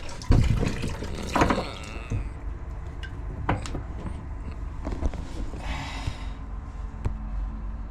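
Water gushes and splashes into a container while a boat's freshwater cooling system is winterised, a strong surge early on settling into steady trickling and pouring close by, with a few sharp knocks.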